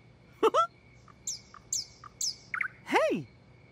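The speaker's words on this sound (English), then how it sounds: "Nightingales love singing at night." Birdsong heard at night in a wooded setting, attributed to a nightingale: a few short, bright chirps and whistled notes in quick, irregular bursts, fairly close and clear over quiet background.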